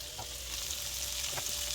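Onions for cauliflower fried rice fry in a pan with a constant close hiss and crackle, two brief stirring scrapes standing out, quiet overall and without voices.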